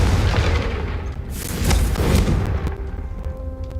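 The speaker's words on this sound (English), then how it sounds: "Let's blow up this one too. Confringo!" A big barrel bursts apart under the Confringo charm in Hogwarts Legacy, a loud booming explosion with deep rumble and a bright crackling burst that swells then slowly fades.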